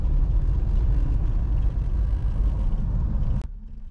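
A car driving after being started following the winter, a loud, steady close engine rumble and road noise that cuts off abruptly near the end, leaving quiet.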